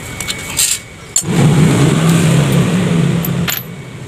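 A Honda Beat FI scooter engine with a rough knocking fault starts up after a few clicks and runs at a steady, loud idle close by, the rumble fading slightly toward the end.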